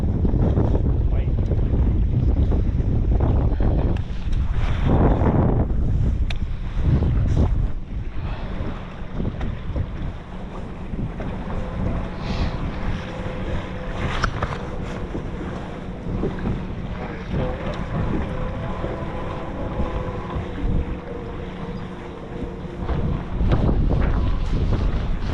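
Wind buffets a boat out on the water in a steady, loud roar, with gusts and rushing wash continuing throughout and no talk over it.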